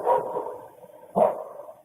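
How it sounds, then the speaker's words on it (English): A dog barks twice in the distance, two separate gruff woofs spaced about a second apart, each trailing off into a short whine, faint and alone with no voices. "That damn dog barking too is just,"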